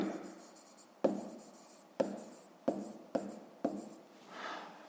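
A pen writes digits on paper, a handful of short scratchy strokes in bursts close up, with a soft rubbing sweep at the end.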